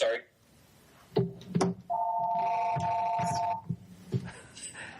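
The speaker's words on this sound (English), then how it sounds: "I'm sorry, that's Jennifer's home phone" A home telephone rings once with a sustained electronic trill, sitting between clunky handling noises and bits of speech in a quiet indoor room.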